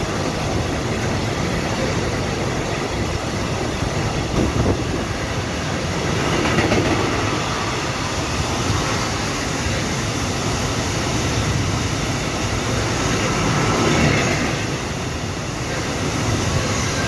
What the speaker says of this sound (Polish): Był komunikat, że bez zatrzymania przejedzie ten skład.